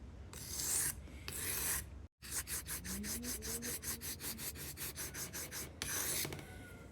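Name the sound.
grinding a broken knife edge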